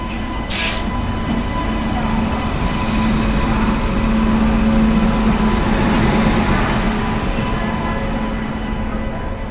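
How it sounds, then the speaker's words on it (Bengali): A train with ICF coaches rolls into Naihati station, a loud continuous rumble and rattle of wheels on rails with a steady tone running throughout, close and alone without voices. "ট্রেন কিন্তু নৈহাটি স্টেশনে অলরেডি ঢুকছে"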